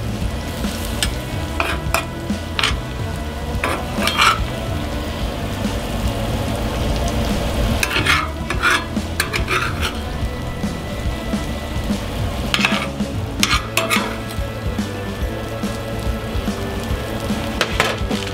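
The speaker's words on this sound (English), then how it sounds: "it's time to just start adding our veggies to the meat" Vegetables and meat frying together on a hot griddle for a cheesesteak sandwich, steady sizzle with repeated scraping and stirring clatters of a spatula, close and fairly loud, no talking.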